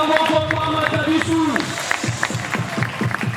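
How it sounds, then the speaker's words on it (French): Guests applaud the groom at a customary and civil wedding, a loose patter of claps from a nearby crowd mixed with background music and chatter. "On applaudit pour lui."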